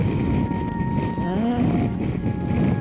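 Wind roars steadily and loudly across the microphone of a BMW motorcycle carrying two riders through Tasmania. Engine tones drone beneath it, and a voice speaks briefly.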